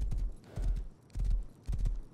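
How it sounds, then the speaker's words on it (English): Horse hooves clip-clop in the video game Rust as the rider travels in the early game carrying a torch, rhythmic bursts of heavy steps in repeating groups, close and fairly loud. "Nothing says early game rust to me than riding a horse with a torch in your right hand"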